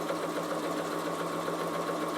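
A Bernina sewing machine runs continuously while sewing fabric for a kitchen heat pad, a steady, fast mechanical whir with a faint rhythmic buzz.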